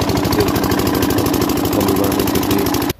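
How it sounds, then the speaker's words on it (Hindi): A farm water pump engine chugs loudly and steadily up close, its regular mechanical beat running without pause before cutting off abruptly at the very end. "आज हमने इंजन चला दिया है"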